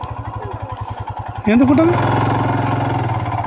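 A motorcycle idles close by with a steady, regular thumping pulse, then its engine swells into a louder, smoother hum as it revs. A voice speaks briefly over the motor.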